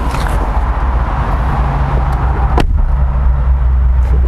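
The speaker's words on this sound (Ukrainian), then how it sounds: "в німецькому автомобілі закриваю двері" A single solid thud of a car door shutting on a roughly twenty-year-old Mercedes-Benz, cutting sharply through a steady low rumble of background noise, with no talking.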